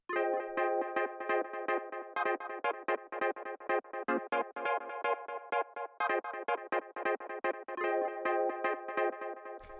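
A deep house synth chord stab loop at 125 BPM, playing bouncy, punchy chords in a steady repeating rhythm. The loop is dry and isolated, with no voices.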